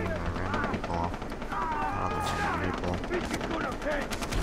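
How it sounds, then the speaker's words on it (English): Gunfire in the video game Far Cry 3, rapid cracking shots and bursts of automatic fire layered over game ambience, steady and fairly loud, with someone talking over it. "More random shooting by random people."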